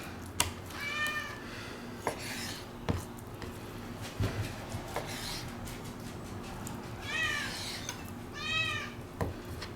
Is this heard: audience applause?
no